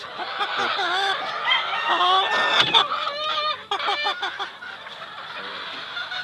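Chickens including a brood cock rooster in a backyard flock, with overlapping clucks, squawks and calls close by, busy and continuous throughout with a few sharp louder cries.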